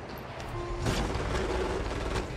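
In the Hitman 2 video game, the engine of a Mark III car at a Miami expo fails to start. It gives a loud, rough stretch of sputtering mechanical noise with crackling, pop-like bursts.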